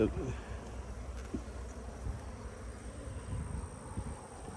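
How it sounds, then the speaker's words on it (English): A crowded hive of honey bees drones inside a beehive box at a pasture apiary, a close, continuous buzz with brief handling knocks and a little talk beneath. "there's a lot of bees in there"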